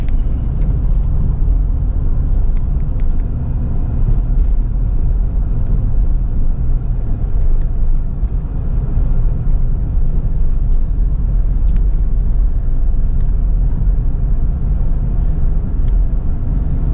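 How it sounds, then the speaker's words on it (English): A car rolling slowly through road traffic on the route toward Kharkiv, a loud, steady low engine and road rumble that fills the whole stretch with no talking. "everything slows down because of this traffic."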